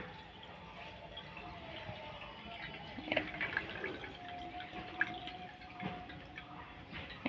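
Water poured off settled potato starch into a large bowl, a soft continuous trickle with scattered drips and light splashes, close and fairly quiet, with a few louder spatters midway.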